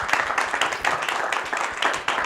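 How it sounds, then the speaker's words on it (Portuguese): A studio audience applauds a guest doctor on a talk show about social media, giving a dense and steady patter of many hands at close range that keeps going throughout and stands alone with no voices. "Gente, vamos dar um aplauso para ele."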